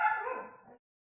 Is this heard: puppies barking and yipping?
yes